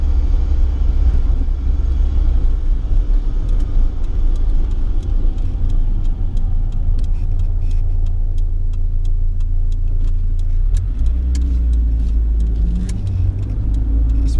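A 1987 BMW E30 M3 engine drones steadily from inside the cabin while driving, a loud, constant low rumble with road and wind noise and faint ticking throughout, shifting slightly in tone toward the end.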